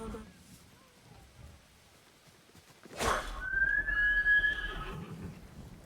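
In Ghost of Tsushima, a horse gives one loud whinny about midway through a quiet stretch. Soft ambient game sound plays underneath, and no one talks.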